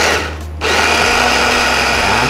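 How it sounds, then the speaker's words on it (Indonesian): An electric blender whirs steadily as it blends a Solo sausage mixture, loud and close, starting after a brief dip and then running continuously with a constant motor drone. "Ini kita blender, tidak perlu terlalu lembut ya"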